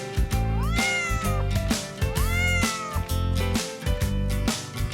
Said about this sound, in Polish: To kot!